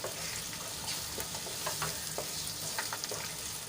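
Onions frying in a pan until reddish, a continuous soft sizzle broken by scraping stirs and light clinks, fairly quiet and close with no talking.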